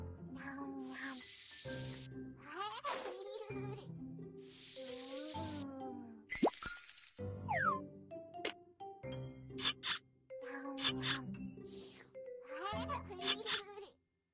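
Milk powder pours into a bottle in a children's educational game: short, airy hissing bursts of a cartoon pouring effect, set among bright jingles and playful childlike vocal sounds.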